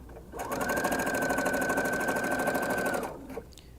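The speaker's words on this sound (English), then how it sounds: "I'm going to do a little top stitch that's 1 inch, basically 1 inch from the edge" A sewing machine runs one steady continuous burst for about two and a half seconds, top stitching an inch from the edge of a wrap dress, loud and close, then stops.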